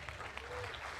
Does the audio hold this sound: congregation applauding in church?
yes